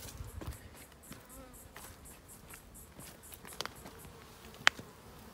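Honey bees buzz around the entrance of a 10-frame Paradise hive box, a soft steady hum of many wings close by, with scattered faint ticks and one sharp click near the end.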